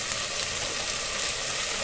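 Onions and green chillies sizzling in a pan while sambar is being cooked, giving a steady, dense crackling hiss with no break, up close and alone without any talking.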